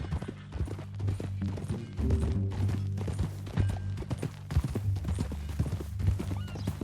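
Steady clip-clopping of horse hooves in the video game Red Dead Redemption 2, close and fairly loud, with faint jingling and an occasional snort over a low rumbling background.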